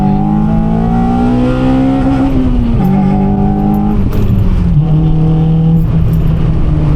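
Modded car engine droning loud and close from inside the cabin, its pitch rising then dipping through gear changes, with faint crackling exhaust pops mixed in and no talk over it.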